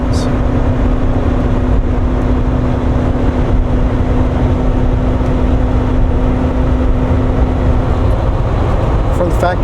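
A Volvo truck cruising at 65 mph in twelfth gear at about 1,100 RPM, giving a steady, loud, unbroken engine drone with road and wind noise throughout.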